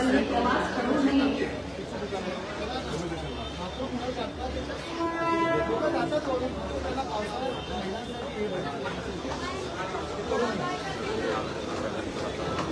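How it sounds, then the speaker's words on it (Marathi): A local train at Thane railway station, rumbling steadily beside the platform amid crowd chatter and station noise, with people talking and a brief horn-like tone in the middle. "प्लॅटफॉर्म क्रमांक 1 वर आलेली लोकल साइडिंगला रवाना होईल."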